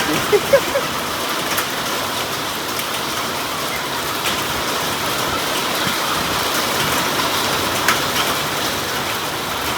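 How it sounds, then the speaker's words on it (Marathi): Heavy rain with large hailstones pours down steadily and loudly onto surfaces outdoors, a dense continuous hiss with a few scattered sharp impacts, and no talk. "गारा मोठी पडल्या बघ"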